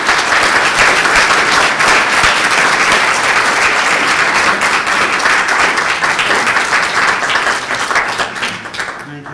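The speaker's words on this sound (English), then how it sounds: "So please, as you're welcoming Dr. Yepiskoposyan, also thank George with your generous applause." An audience at an Armenian studies lecture welcomes a genetics lecturer with loud, dense applause from many hands, sustained evenly before thinning and fading toward the end.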